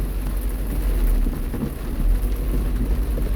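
Steady rain drumming on a car while driving, a dense continuous wash of drops with low road rumble underneath, loud and close throughout.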